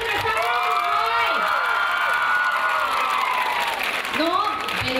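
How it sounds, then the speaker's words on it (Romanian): An outdoor crowd at a village folk customs festival in Trifești, Iași applauds and cheers for the mayor, steady clapping mixed with whoops and shouts while a voice carries over the top. "Aplauze pentru primarul vostru"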